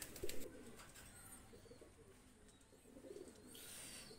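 Golden running pigeons coo softly, a few low rolling calls rising and fading at moderate distance over a quiet background, with a faint high hiss toward the end.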